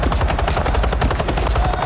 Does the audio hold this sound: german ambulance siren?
no